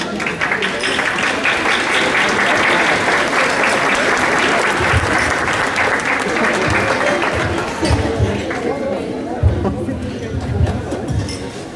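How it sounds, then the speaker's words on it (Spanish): Applause fills a graduation celebration right after a toast, a steady dense clapping from a large crowd with glasses clinking faintly, continuing loud throughout with some chatter mixed in. "yo creo que podemos dar un mejor y más fuerte aplauso a Yalitza, Alejandra, Calcín, Magno"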